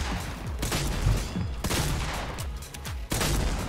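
Rapid gunfire from a Fortnite match, a dense run of shots and bursts with a few heavier booms, loud and close throughout with no talk over it.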